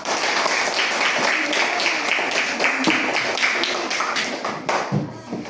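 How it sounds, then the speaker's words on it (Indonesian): Classroom applause during an Indonesian civics lesson: students clap together in a dense, steady patter that holds for about five seconds, then thins out near the end. "Oke, tepuk tangan dulu untuk kita semua."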